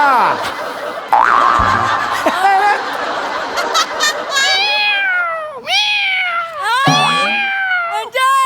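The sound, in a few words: person imitating a cat meowing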